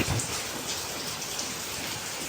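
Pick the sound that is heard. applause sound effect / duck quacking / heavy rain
heavy rain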